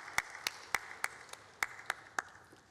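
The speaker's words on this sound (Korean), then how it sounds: "우리 샬롬과 함께 하나님께 영광의 박수 올려드리겠습니다." Church congregation clapping together after a choir's hymn, a slow, steady series of about eight distinct, evenly spaced claps, fairly crisp but moderately faint in a reverberant hall.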